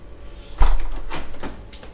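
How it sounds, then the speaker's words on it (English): An interior door opening into a kitchen in a house, a single close knock-like thud followed by a few light rattling clicks and a soft swing, no voices. "We'll go through this door here and we enter the kitchen."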